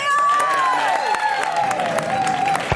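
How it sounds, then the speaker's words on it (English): Studio audience clapping and cheering for a teenager honoured for saving two men from drowning, brief and lively, with a tonal sound sliding through the mix. "Everyone clap for Teo!"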